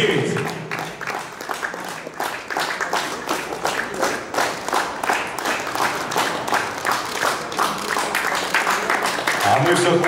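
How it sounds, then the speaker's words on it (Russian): An audience applauds at a volleyball club's preseason press conference, with dense, steady clapping running on for about ten seconds. "А мы все хлопаем, конечно"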